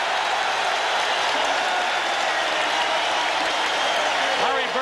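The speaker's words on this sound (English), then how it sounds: "Larry Bird said he wanted to hear more from the crowd in this game" A basketball arena crowd at the 1987 NBA Finals, Lakers versus Celtics, roars and applauds in a steady, dense wash of cheering that holds loud and even throughout.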